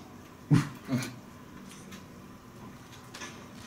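A dog in the life-simulation video game The Sims 2 gives two short, soft yips or whimpers close together, followed by faint quiet game ambience.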